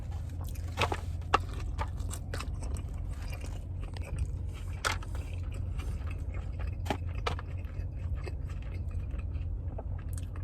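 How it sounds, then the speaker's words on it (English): Close, wet chewing of a soft taco, with irregular bites and crunchy clicks over a steady low background hum throughout. "walk in chewing"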